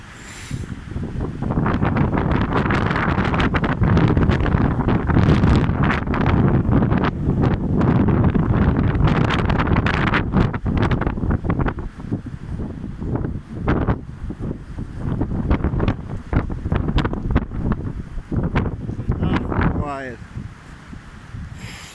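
Strong hurricane wind roars continuously into the microphone by the sea in Tallinn, with big waves nearby; loud buffeting gusts dominate throughout while a person talks at times and a dog is called.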